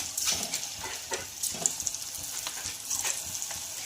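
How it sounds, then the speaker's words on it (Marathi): Soybean chunk fritters (bhaji) fry in hot oil with a soft, continuous sizzle broken by crisp pops and crackles, heard close up and alone. "तर छानपैकी आपलं तेल तापलेलं आहे तर आपण आता छान अशी भजी बनवून घेऊया"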